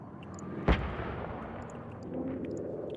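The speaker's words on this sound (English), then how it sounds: "Now you're seeing that AA gun starting to do some work here." An anti-aircraft gun fires in a World War II video game battle: one sharp, loud blast followed by a long rumbling decay, with a low engine-like drone continuing underneath.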